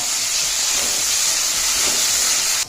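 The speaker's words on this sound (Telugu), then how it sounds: "పచ్చి కొబ్బరి ముక్కలు వీటిని కూడా దూరగా వేయించుకుందాం" Fresh coconut pieces frying in a hot pan for mint chutney, a dense continuous hissing sizzle, close and loud, cutting off abruptly at the end.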